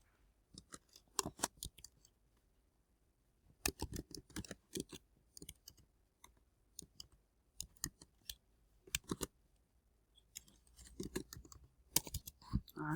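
Quick bursts of computer keyboard typing while text is entered in desktop publishing software, clicking keys in short clustered runs separated by pauses, close and crisp with no talking.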